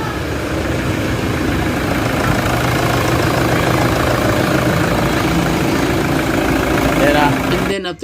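A Toyota Fortuner engine idling in the engine bay during a thermostat replacement, a steady low rumble that stays constant and close throughout before cutting off at the very end, with people talking over it.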